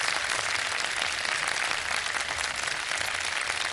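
A studio audience on a Ramadan quiz show claps steadily to welcome three contestants, a dense, even wash of applause filling the whole moment with no pauses.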